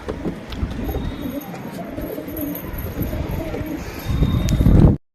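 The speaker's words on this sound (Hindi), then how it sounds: "जितने कबूतर हैं सब बाहर आ जाएंगे इस पेटी के" Pigeons coo inside a box, soft repeated throaty calls close by with rustling and shuffling, getting louder near the end before an abrupt cut.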